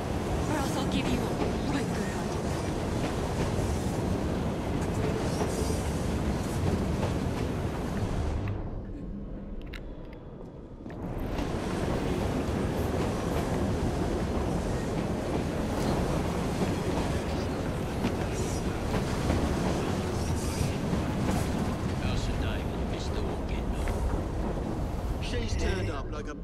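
A steam-era train rolling along rails in Assassin's Creed Syndicate, a loud continuous rumble and clatter that drops out briefly near the middle before resuming, with voices speaking over it.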